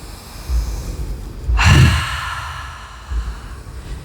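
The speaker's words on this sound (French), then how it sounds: "Je vous invite à inspirer très fort par le nez. Et à relâcher par la bouche." A conference audience at a women's festival takes a deep breath in through the nose, then lets out a loud collective exhale through the mouth, a broad rushing whoosh that swells and fades alone.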